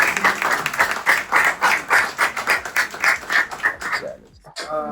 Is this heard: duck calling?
no